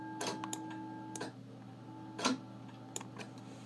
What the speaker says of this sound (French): un petit son d'horloge dans le fond